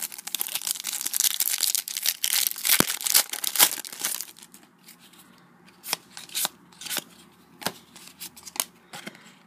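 Topps Match Attax Champions League 17/18 card packets being ripped open and cards shuffled, with loud dense crinkling and tearing of foil wrappers at first, then sparser sharp card flicks and snaps, close up with no talk.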